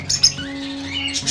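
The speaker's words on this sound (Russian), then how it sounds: "вот эти вот неразлучники розовощеки" Rosy-faced lovebirds squawking up close, a few sharp harsh calls near the start and end with softer chatter between, over a steady low background hum.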